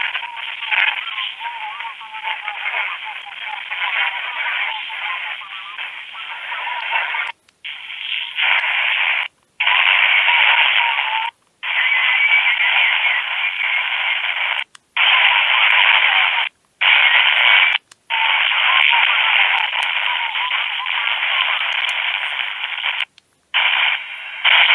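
Band-limited radio reception on a Quansheng handheld running an SSB mod, loud hissing static and garbled voice signal from stations 30 to 60 km away, cutting in and out in irregular bursts.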